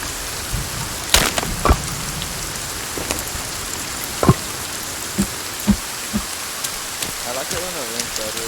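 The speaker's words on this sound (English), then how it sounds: "I like it when it rains better." Rain falling in the video game Sons of the Forest, a steady loud patter of drops on surfaces with scattered heavier plops, while people talk faintly over it.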